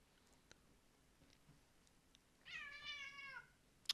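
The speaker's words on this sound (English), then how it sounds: "Don't mind the cats freaking out at each other." Two house cats squabble in a brief burst of yowling meows, fairly faint and distant against a quiet room, ending with a sharp close tick.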